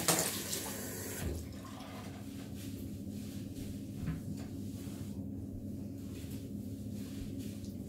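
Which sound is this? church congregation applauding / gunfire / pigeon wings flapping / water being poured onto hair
water being poured onto hair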